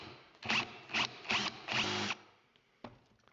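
Drill with a 9.5 mm bit countersinking a zamak replica gun part, heard as four short, loud whirring bursts in an even rhythm, then quiet with a faint click.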